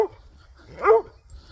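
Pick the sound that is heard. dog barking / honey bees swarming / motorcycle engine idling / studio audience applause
dog barking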